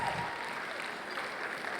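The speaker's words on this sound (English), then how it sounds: "I'm gonna clap now." Steady clapping from a crowd at a Nigerian public gathering, continuous and even throughout, with faint voices mixed in.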